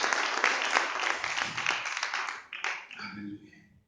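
Church congregation applauding during a Spanish-language worship service, a dense burst of clapping from many hands that swells, then thins into scattered claps and fades near the end.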